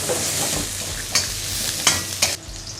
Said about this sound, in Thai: เราผัดหอมให้เขา